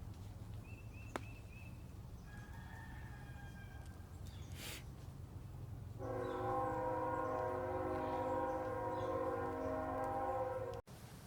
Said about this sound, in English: Let this train go by, or do its thing.